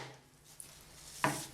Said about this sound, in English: Sorry about the noise that this roll is making as it bangs.